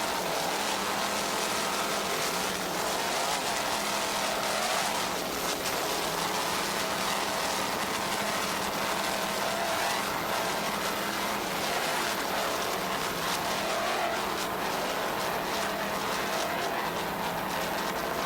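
Racing powerboats Flying Tiger and the 38-foot Cougar Endangered Species competing in open class, heard as a loud, steady engine roar mixed with water and wind rush, holding level throughout.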